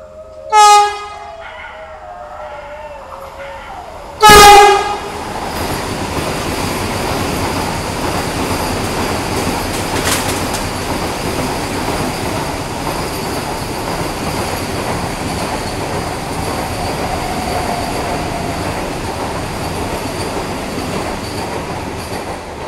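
Steady rumble and rattle of the Garib Rath Express from inside a coach on the LTT Mumbai–Kochuveli run, with a brief horn-like tone and a sharp clank early on, then a continuous clatter.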